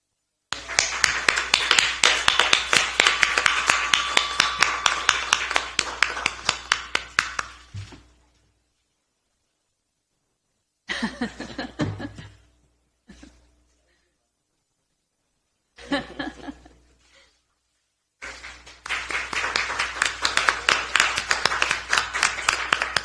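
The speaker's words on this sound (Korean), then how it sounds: "박수 부탁드립니다." Audience applause at a Democratic Party of Korea welcoming ceremony for newly recruited election candidates: several long bursts of dense clapping separated by short pauses and brief talk, loud and close.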